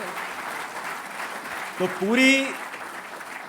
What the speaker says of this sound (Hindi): ज़ोरदार तालियां आप अपने लिए भी और इस खूबसूरत शाम के लिए भी।